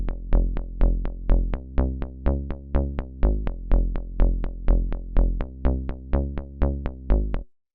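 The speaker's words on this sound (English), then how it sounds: "So the next sound we have here is this bass" Minimal techno bass line, pulsing in steady eighth notes with a punchy, regular attack on every note, loud and alone with no voices.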